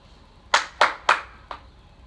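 Hands clapping during a popcorn ball warm-up game, four sharp claps close by, the first three in quick even rhythm and a softer fourth after a short pause.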